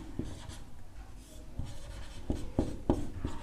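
Pen strokes on paper as the given data of a class 9 maths problem on surface area and volume is written down, a quiet series of scratchy marks with some sharper taps, no speech over it.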